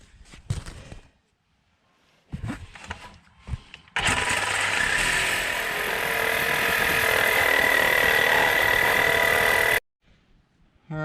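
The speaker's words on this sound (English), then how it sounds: "So got the trusty Sawzall." A Sawzall reciprocating saw cuts through the catalytic converter pipe on a Nissan Altima, a loud, steady broadband buzz lasting about six seconds after shorter bursts of sawing, then stopping abruptly.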